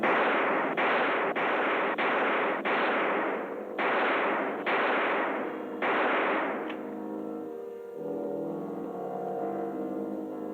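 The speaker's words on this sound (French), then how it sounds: "j'ai beau tirer, il continue d'approcher" In a sci-fi TV series scene, a series of loud, sustained bursts of blaster-like gunfire repeats in a steady rhythm, then gives way to a humming, ringing tone.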